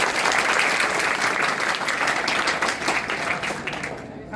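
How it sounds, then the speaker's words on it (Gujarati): Loud, sustained applause from a school audience welcoming a visiting police team at a certificate ceremony, dense steady clapping for about four seconds before tapering slightly at the end. "આજે જોરદાર તાળીઓ સાથે આપણે એમનું હાર્દિક સ્વાગત કર્યું"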